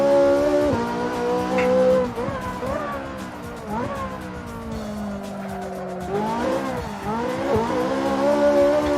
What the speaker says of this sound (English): Yeah, car sounds great.